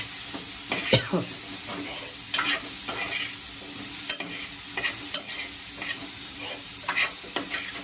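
A fairly dry chicken breast mixture is stirred in a hot pan. Sharp spoon scrapes recur every second or so over a continuous low sizzle, close and clear.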